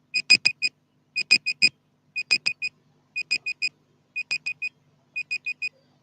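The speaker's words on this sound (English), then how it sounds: "My timer is up" A timer alarm beeps in a steady pattern, short clusters of three or four bright electronic tones repeating about once a second, clear and alone with no talking.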